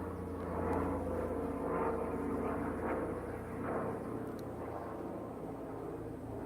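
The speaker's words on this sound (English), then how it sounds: "now there's an airplane" A distant airplane drones overhead, a low, broad rumble holding steady and faint in the background throughout.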